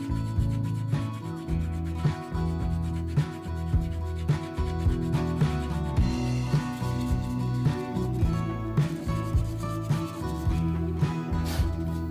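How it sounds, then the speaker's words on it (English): A gritty-surfaced file worked over a real AK magazine being converted for an airsoft AEG, giving a steady rasping rub with repeated strokes close up, continuous for the whole stretch. "For that I use a file with a gritty surface."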